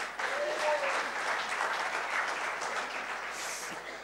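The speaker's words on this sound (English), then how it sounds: "You can say on the mic so that they hear it and I get an applause." Audience applause fills a conference hall at a live show session in a Chennai hotel, steady clapping sustained throughout with a faint voice briefly underneath.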